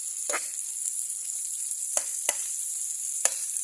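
Cabbage, bean sprouts and other vegetables stir-fried in a pan give a steady high sizzle, broken by a handful of sharp spatula scrapes spaced irregularly.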